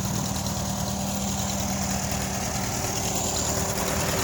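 A Case DC4 tractor engine idles at a rural plow day event, a steady, even mechanical drone that holds constant throughout without revving.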